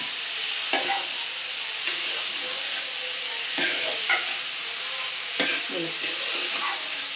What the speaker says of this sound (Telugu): ఒకసారి కొంచెంసేపు నూనెలో ఇట్లా ఫ్రై చేయాలి